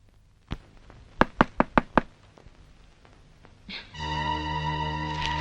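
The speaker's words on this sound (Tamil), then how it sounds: "அவ அங்க கதவை தட்டிட்டு இருக்கா" Someone knocks on a door, one thud followed by a quick run of five sharp raps, then a sustained tonal hum fills the background.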